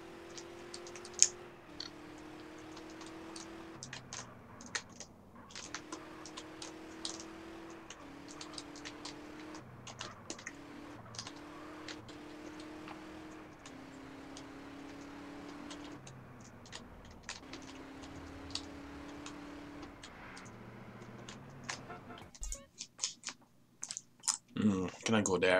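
Computer keyboard keys clatter in scattered, quick clicks while GTA San Andreas is played, the light tapping sitting over a steady droning in-game engine tone.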